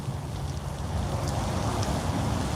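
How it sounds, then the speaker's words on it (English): Steady wind buffets and rushes against the microphone on the Texas coast, a continuous low roar with no voices. "But right now it's a little windy,"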